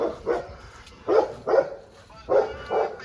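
Five sharp dog barks come in uneven pairs, close and loud, with brief quiet gaps between them.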